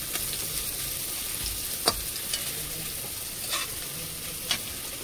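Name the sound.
frying garlic in oil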